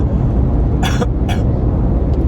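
A person coughs twice in quick succession, sharp bursts close to the mic over a steady low background rumble.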